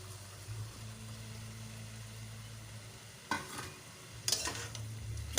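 Fried amadi fish stirred into a sweetened pot of pui shak fruit chorchori, a low steady frying hiss and hum broken by two short bursts of scraping and clatter near the end, with no talk.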